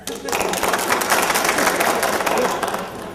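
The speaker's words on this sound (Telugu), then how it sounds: "మీరందరూ ఇప్పుడు చప్పట్లు ఎందుకు కొడుతున్నారో నాకు అర్థం కావట్లేదు" A village gathering audience breaks into loud, sustained clapping that fills the space from start to finish, with voices mixed into the applause.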